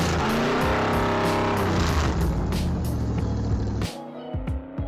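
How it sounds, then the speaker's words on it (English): A Fiat 500 fitted with a Lamborghini V12 engine making 580 horsepower roars loudly at high revs, a dense harmonic engine note that holds steady, then drops abruptly to a lower rumble near the end. "The first on our list is a Fiat 500, with a V12 engine from Lamborghini."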